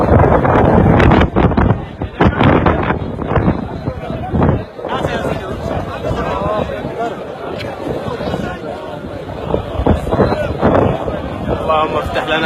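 Strong wind buffets the microphone at the Masjid al-Haram in Makkah during the Maghrib prayer, loud gusting roars rising and falling over a distant crowd murmur, with people talking nearby.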